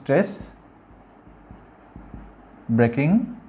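Chalk or marker taps and strokes on a board during a physics lesson about Newton's laws, heard as faint, irregular ticks between stretches of someone talking.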